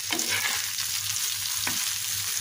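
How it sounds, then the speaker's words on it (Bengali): Pieces of spiny gourd (kakrol) fry steadily in a pan, a continuous close sizzle with a few soft stirring scrapes and no voices. "এভাবে কেটে এই যে ভাজি করে নিয়ে আসি"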